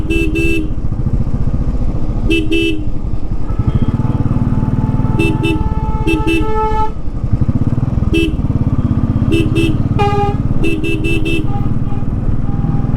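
On a hairpin bend climbing the Kolli Hills, a motorcycle's engine drones loudly and continuously while its horn beeps in repeated short double and triple honks throughout.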